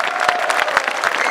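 An audience at a revue in Gennep claps loudly and steadily, with dense, close applause throughout.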